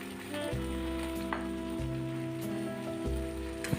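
Brinjal pieces fry in a pan with garlic paste, giving a dense crackling sizzle under a low steady hum, with no voices.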